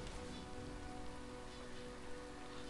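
Steady rain patters and hisses in the video game Dead Island, a constant even wash of drops with no breaks, fairly quiet and with no talk over it.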